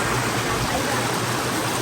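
At Waterfall Gully, falling water roars in a loud, steady, unbroken rush heard up close.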